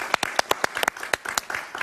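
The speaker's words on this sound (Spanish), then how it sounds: "Un aplauso para ella, por favor." Studio audience at a Spanish-language talk show clapping for a Venezuelan astrologer guest, sparse individual hand claps in an uneven rhythm, close and crisp rather than a dense ovation.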